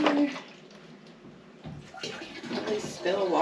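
Water poured from a jug into a container inside an off-grid cabin, a splashing, gurgling stream that rises and falls across a few seconds.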